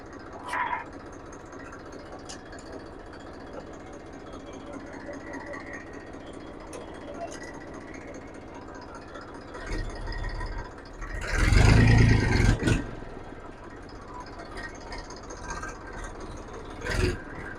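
A Massey Ferguson 1035 DI tractor from 2000 runs with a steady low engine drone and faint mechanical clatter. A louder rumbling surge comes near the end.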